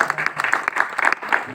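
Applause from an audience at an honoring ceremony for people with disabilities, a lively run of hand claps with distinct individual smacks, fairly close and loud, ebbing briefly before picking up again.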